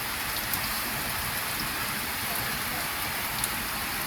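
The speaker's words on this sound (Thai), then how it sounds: "วันนี้ฝนตกครับ" Steady rain falls at a construction site, an even, close hiss of drops hitting surfaces throughout with no voices.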